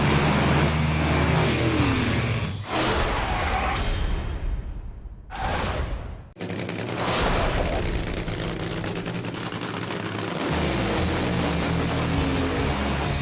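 Nitro Funny Car drag racing engines roaring at the start line, a deafening, crackling broadband blast that fills the clip, dips briefly between bursts, then surges again in a sustained thunderous run.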